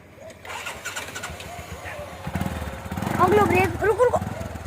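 An engine being revved, a motor starting with a rising growl that swells in loud bursts over several seconds while people talk nearby.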